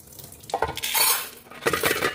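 Food being rinsed under a running kitchen tap, with two bursts of splashing water separated by a short pause, close and fairly loud.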